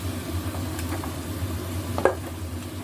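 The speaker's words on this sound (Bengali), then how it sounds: "আলুগুলো ফ্রাই হয়ে যাচ্ছে হালকা" Potato pieces fry lightly in hot oil for a sweet corn aloo dum, a steady low sizzle with faint stirring scrapes and one sharp clink near the end.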